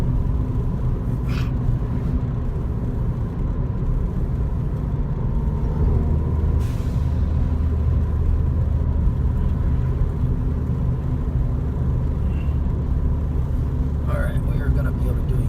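A deep, steady exhaust rumble from an MBRP exhaust fills the cabin as a car drives along, constant and loud throughout with faint road whir.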